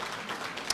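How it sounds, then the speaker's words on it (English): Applause from the audience at an interfaith banquet dinner, a brief, faint, diffuse patter of clapping across the hall that rises slightly at the end. "give her a round of applause."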